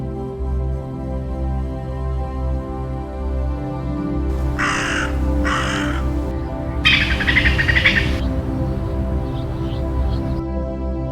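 Several harsh crow caws in short bursts, fairly close, rising over a steady hum of background music.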